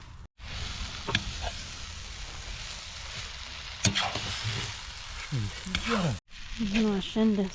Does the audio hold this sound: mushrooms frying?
yes